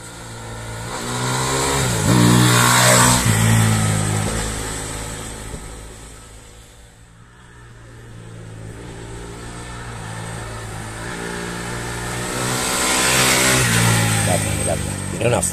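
Fantic Caballero Rally 500 motorcycle on asphalt, its engine revving up and pulling hard, swelling and easing back, then climbing again in loud close passes, with someone talking over it.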